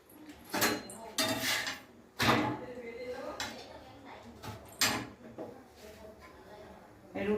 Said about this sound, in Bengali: রুটিটা বেলে নিই।